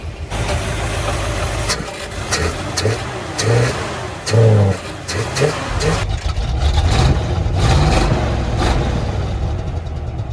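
A car engine pulled from a Blazer runs close by with a steady idle, broken by several throttle blips and revs that rise and fall, while a person talks over it in places.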